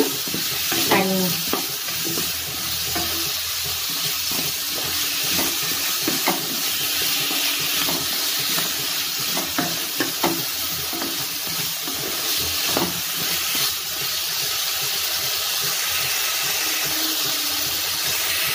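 Potato pieces frying in a pan for a vegetarian drumstick and soya curry, a steady close sizzle with scraping stirs and utensil taps throughout.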